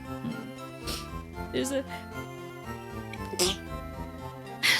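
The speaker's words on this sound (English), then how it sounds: "sorry about the sneeze" A single short sneeze breaks out amid video-game music and a person talking, close and brief against the steady background.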